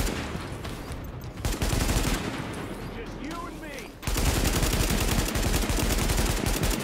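Heavy automatic gunfire from the shooter game Tom Clancy's The Division, with dense, sustained bursts that ease briefly and then return louder near the end, mixed with in-game voices.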